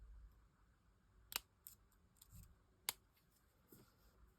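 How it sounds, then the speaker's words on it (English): Scissors snip through advent calendar cardboard, two sharp close snips a second or so apart with small rustles between, quiet and without talking. "Right, 2 little snips, says she."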